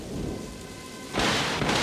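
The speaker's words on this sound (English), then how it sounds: "The crash of thunder, the howling of the wind, the gentle tapping of raindrops dancing on my paw" Cartoon thunderstorm with a low rumble of thunder under steady rain, then a sudden louder surge of heavy rain and crashing thunder that fills the second half.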